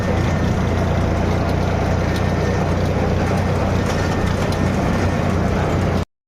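A tractor engine rumbles at a low, steady idle, loud and close throughout before cutting off abruptly at the end.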